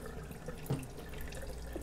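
Water running from a K8 Kangen water ionizer installed in a mansion, a quiet steady trickle with faint drips, low and close, with no voices.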